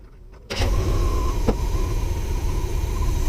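A car engine fitted with a knock-off Rochester carburetor starts up and settles into a loud, steady high idle, holding a constant droning hum close to the microphone.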